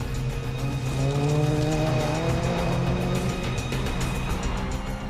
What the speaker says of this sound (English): These rally cars are competing in the Tour of Cumbria.